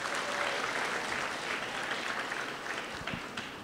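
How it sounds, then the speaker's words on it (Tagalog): Dense, steady audience applause at a corporate talk, a continuous wash of many hands clapping that holds evenly and tapers slightly toward the end, with no voices over it. "hindi ko alam para saan yung palakpak"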